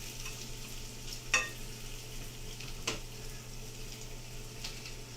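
Onions fry in a pan with a steady close sizzle and hiss, broken by a few sharp stirring scrapes and utensil clicks, with no talking.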